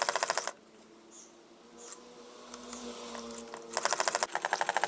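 A sewing machine stitches two kurti strips together, running in fast rhythmic bursts at the start and end with a quieter pause between, heard up close without any talking.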